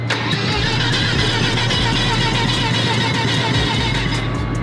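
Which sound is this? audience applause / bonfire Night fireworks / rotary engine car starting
rotary engine car starting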